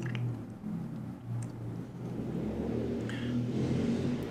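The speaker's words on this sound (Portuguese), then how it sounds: "É, só o barulho de carro no final." A car engine sounds faintly in the background at the end of a played video, a low continuous rumble that rises slightly toward the end, with a few soft knocks over it.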